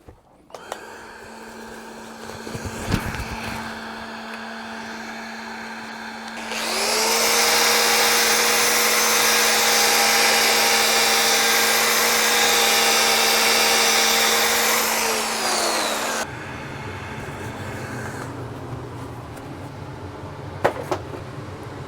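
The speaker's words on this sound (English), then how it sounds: "I'll go ahead and get this sanded out" A cherry wood bowl spinning on a lathe is sanded, a loud steady whirring hiss that starts abruptly partway through and runs about nine seconds over a low hum, then drops back to quieter room noise with a few clicks.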